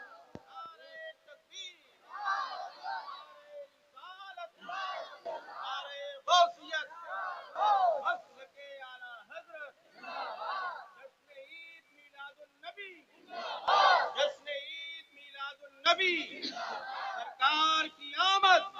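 A crowd at a 12 Rabi ul Awwal religious gathering shouts the Nara-e-Takbeer slogan in loud, repeated collective bursts, voices rising and falling in waves with brief gaps between calls.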